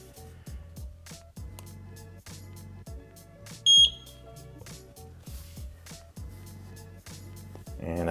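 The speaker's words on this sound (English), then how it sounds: "And I heard a beep." A Eufy indoor 2K pan-and-tilt security camera gives a single short, clear beep after its sync button is held. The beep rises above a background of rhythmic music.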